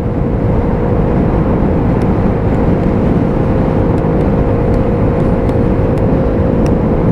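A Lexmoto Aura motorcycle on a quick test ride around the block gives a loud steady engine drone with heavy rumble and wind noise, continuous throughout with a few faint ticks.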